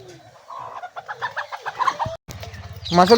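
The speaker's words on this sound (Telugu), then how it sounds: "చూడండి ఈ కోడి ఎట్లా ఉరుకుతుందో" Close, quick clucking from a hen in short bursts, with scuffling movement and a louder squawk at the end.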